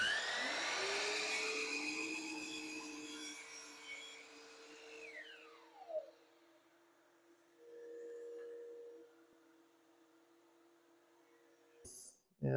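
A miter saw cutting crown moulding held in a jig: the motor spins up with a loud whine, the blade bites through the wood, then the pitch drops as it winds down, followed by a brief quieter hum and a clack at the end.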